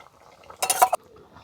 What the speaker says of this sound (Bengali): আর এই থালকুনি পাতা বাটাটাও এর সঙ্গে মিশিয়ে নিচ্ছি